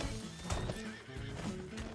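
A horse in the game Red Dead Redemption 2 whinnies loudly while its hooves clip-clop in quick rhythm, filling a short moment close up.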